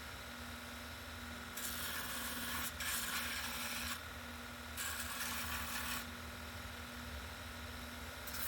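Coarse 80 or 60 grit sandpaper rubbing along a wooden sword, several long, steady scratchy strokes separated by brief pauses, close and moderately loud.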